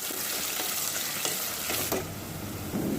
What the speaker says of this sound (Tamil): வெங்காயத்தை நல்லா பொன்னிறமாக வர வரைக்கும் இதை வதக்கி விட்டுக்கலாம்.